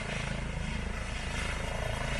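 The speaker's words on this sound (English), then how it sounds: "I'll put a little clip in right now of them loading up and taking off on a helicopter" A helicopter loading up and lifting off, its rotor chop a steady, loud, rhythmic thumping over a broad engine roar that holds close and constant throughout.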